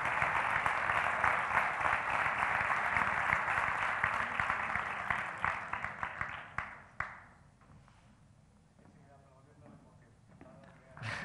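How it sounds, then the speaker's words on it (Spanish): An audience at a business club's tenth-anniversary award ceremony claps steadily and warmly, then the applause thins into scattered claps and fades, leaving quieter room sound with voices. "Ese aplauso más que merecido para Francisco."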